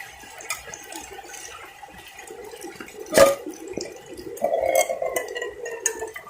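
Water is scooped from a natural spring for soup after rain, giving soft intermittent splashes and trickles close by, with one sharper slosh midway and a longer pouring run later, no talk.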